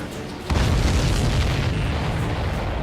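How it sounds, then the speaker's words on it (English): A loud, deep explosion in the flight-combat video game Ace Combat 7 bursts in suddenly, then a heavy rumbling roar keeps going steadily, dense and booming, with no voices. "Did you see that explosion?"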